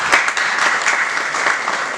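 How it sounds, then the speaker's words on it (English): Audience at an inauguration event giving dense, continuous applause, steady and fairly loud throughout, with no voices over it. "Let's all give them a warm round of applause."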